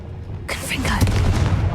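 A Confringo fire spell goes off in Hogwarts Legacy, a sudden loud blast that holds on as a rumbling burst with crackle over it and mixes with game sounds for more than a second.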